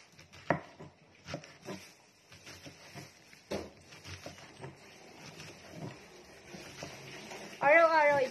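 A knife thinly slicing Chinese pechay on a board, giving light, uneven chopping taps with soft rustling in between, fairly close and quiet, followed by a short, louder noise at the end.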